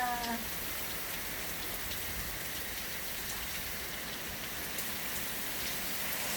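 Steady rain falls and patters on surfaces outside a home, a dense, even hiss that continues unbroken throughout with no voices.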